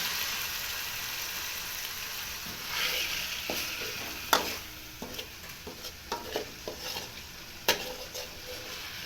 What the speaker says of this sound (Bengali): ভালো করে কষে নিয়ে হবে